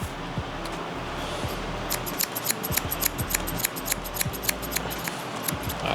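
Scissors snip hair during a barber's low taper mullet haircut, with a long run of crisp, close, rapid blade clicks in an uneven rhythm over a steady low background hum.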